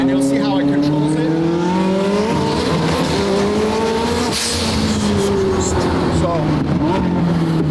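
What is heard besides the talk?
1300 whp McLaren 720 GTR accelerating hard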